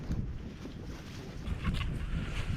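Steady outdoor wind by a river, a broad low rumble and rush buffeting the microphone, with gusts swelling slightly toward the end; no voices.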